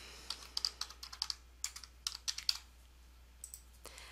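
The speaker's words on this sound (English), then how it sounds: "and then type in your message." Keys on a computer keyboard are tapped in quick, irregular bursts of light, close clicks with brief pauses, in an otherwise quiet room.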